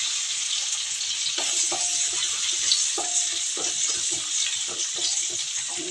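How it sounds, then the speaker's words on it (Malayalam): Onions fry in hot coconut oil with a continuous, near hiss of sizzling, punctuated by soft scraping and tapping of a stirring utensil against the pan. No one speaks. "വെളിച്ചെണ്ണ ചൂടായി. സവോള ഇടും."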